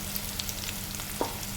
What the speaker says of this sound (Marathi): तेल सुटेपर्यंत मसाला आपल्याला याच्यामध्ये आता फ्राय करून घ्यायचे आहेत व्यवस्थित